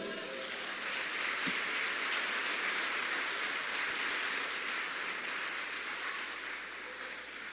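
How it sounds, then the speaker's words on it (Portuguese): Church congregation applauding during a sermon, a steady, soft, even wash of many hands clapping from a distance, sustained throughout without a clear break. "aplauda o Senhor"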